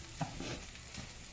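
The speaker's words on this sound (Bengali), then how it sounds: "মানে একটু ভেজে নেই" Broccoli and other vegetables fry in a pan with a soft, steady sizzle, and a spatula stirs them with a couple of faint scrapes. The sound is quiet and continuous, with no voices.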